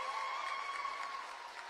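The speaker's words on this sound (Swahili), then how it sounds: "Makofi tena." Faint, steady applause from graduates' audience at a Nairobi Aviation College graduation ceremony, a soft continuous patter of many hands heard from a distance with a faint tonal hum running through it.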